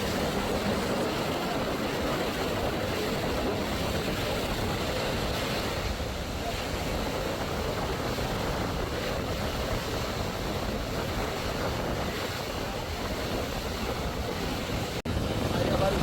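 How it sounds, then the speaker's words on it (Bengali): Passenger launch MV Kuakata 2 running empty on a river in Barisal, its steady engine drone and wash of water continuous and moderately near, with wind buffeting the microphone throughout. "বরিশাল থেকে আরও একটি লঞ্চ এমবি কুয়াকাটার দুই যাচ্ছে স্পেশাল ট্রিপ দিতে খালি চালিয়ে ঢাকা যাচ্ছে"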